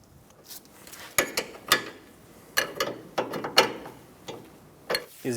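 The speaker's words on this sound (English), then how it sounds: "We're going to use a 22mm wrench to snug down the jam nut." 22mm wrench tightening the jam nut on a tie rod of a 2012-2020 Chevrolet Sonic, a run of sharp metallic ratcheting clicks and clanks in uneven bursts, close and fairly quiet, with no talking.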